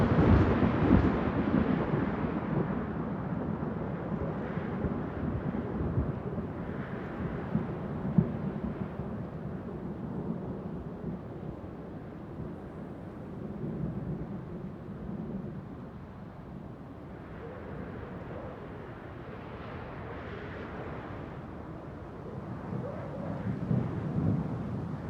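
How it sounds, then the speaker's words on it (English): In the Road Craft video game, an approaching thunderstorm sounds as low, continuous rumbling thunder with wind-like noise, swelling and fading over a long stretch, moderately loud and without speech. "Sounds like the storm is coming in."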